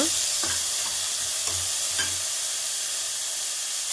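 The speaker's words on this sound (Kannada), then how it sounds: "ತೊಗರಿಕಾಳನ್ನ ಸೇರಿಸ್ಕೊಂಡು ಸ್ವಲ್ಪ ಚೆನ್ನಾಗಿ ಹುರ್ಕೊಳ್ಳೋಣ" Fresh pigeon peas frying with fried onions in a pan, a steady close sizzle broken by three or four soft scrapes of a spoon stirring at regular intervals, no voices.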